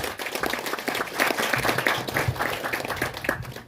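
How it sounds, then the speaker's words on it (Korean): An audience applauds at the completion ceremony of a senior citizens' center in Pocheon, South Korea, with steady, dense clapping from a nearby crowd that continues throughout. "큰 박수로 환영해 주시기 바랍니다."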